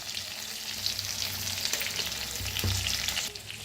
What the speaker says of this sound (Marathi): आता भाजून घेऊया, मिक्स करूया सगळं।